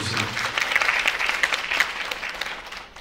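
Audience applause welcoming panel discussants at a seminar on the future of apartment housing, a dense burst of many hands clapping that swells and then tapers off over a few seconds.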